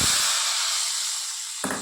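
Hot oil with mustard seeds sizzles steadily while tempering dal, a loud continuous hiss that fades slightly, with a short clatter at the start and near the end.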